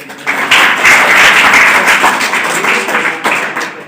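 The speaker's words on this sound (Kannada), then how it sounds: "ಅದು ಒಂದು ಜೋರಾದ ಚಪ್ಪಾಳೆ" A school audience breaks into loud, sustained applause at a government model primary school event, dense clapping swelling after a brief start and continuing steadily before tapering slightly.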